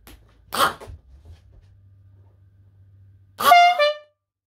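Dixieland musical air horns play a short burst, then a longer, louder, bright honking tune after a pause of low hum, loud and close.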